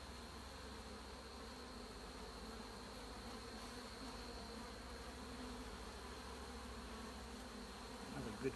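Honeybees buzzing around an open beehive during a frame inspection, a steady, even hum from many insects that continues throughout without a break.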